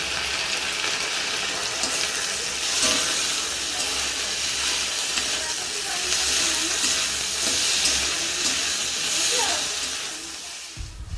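Garlic fries with onion, capsicum and tomato in a pan for chilli chicken, a steady loud sizzle and hiss running throughout, with occasional stirring scrapes close up.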